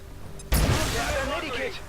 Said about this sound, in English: Oh, you're throwing a grenade.